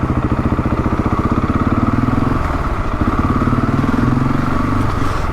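Motorcycles in the village of Hawes in the Yorkshire Dales, a spot popular with bikers, run with a loud, steady, throbbing engine rumble and a fast pulsing beat that carries through without pause.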